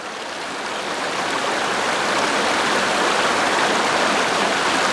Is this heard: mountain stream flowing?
yes